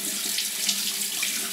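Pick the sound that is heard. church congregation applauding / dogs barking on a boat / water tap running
water tap running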